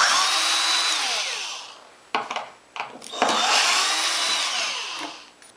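Power drill unscrewing pocket screws from a template on a workbench top, two long loud whirring runs separated by short bursts and knocks as the screw releases, close with no talk.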